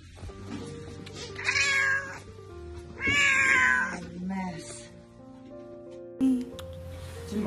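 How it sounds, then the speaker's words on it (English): Earless ten-year-old shelter cat meows several times, drawn-out and whiny, close by, with a brief voice and faint background noise between calls. "So the kitty cat."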